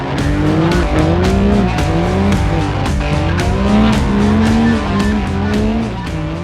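A loud, roaring diesel Hoonitruck tears past up close, revving hard with whining gear shifts and rapid rising pitch sweeps, no talking.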